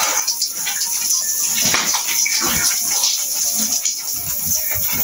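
Water splashes and gushes steadily and loudly while pigs are washed and their pen is cleaned on a farm, a continuous hiss with irregular splatter throughout.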